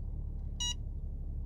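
A Mercedes Parktronic parking sensor gives one short, sharp electronic beep inside the car, standing out clearly over a low steady cabin rumble.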